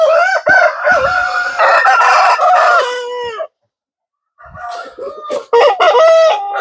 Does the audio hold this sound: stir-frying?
no